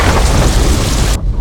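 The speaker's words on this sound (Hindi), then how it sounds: "बारिश जोरों से हो रही है" Heavy rain pouring down with a loud thunder rumble, a dense roaring wash that cuts off abruptly at the end.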